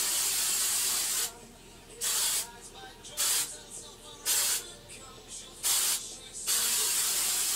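Several short bursts of hairspray hiss close by as it is sprayed on hair, each lasting about half a second to a second, separated by brief pauses over steady background noise.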